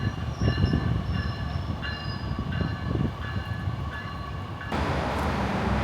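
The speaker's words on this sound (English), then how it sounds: "There goes the Metro." A Chicago Metro train rolls past nearby with a steady rumble of wheels on rails and high squealing tones, and a louder wash of noise near the end as it goes by.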